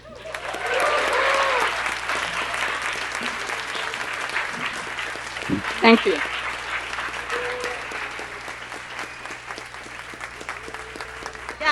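Sustained applause from a town hall audience, loud and dense at first, then easing slightly while continuing steadily throughout; a voice briefly speaks over the clapping partway through.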